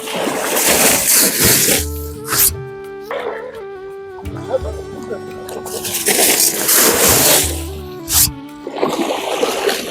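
Water splashing and sloshing repeatedly in a large beel while a net is drawn around fish, heavy surges and bursts with a tonal engine-like drone under and between them.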